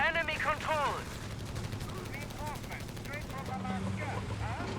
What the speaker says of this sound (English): The Chaffies with their machine guns actually do respectable damage.